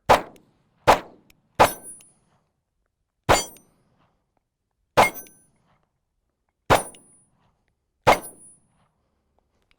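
Steel plates ring out as Kimber Micro 9 pistol rounds strike them, seven sharp clangs spaced about a second or more apart, each one bright and quickly fading, with silence between.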